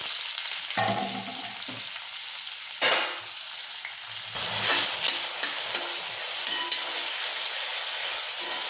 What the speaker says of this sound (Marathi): तेल तापले आपलं, मोहरी टाकायची। मोहरी टाकून झाल्यावर कांदा टाकायचा, लगेच टमाटर भी टाकायचं।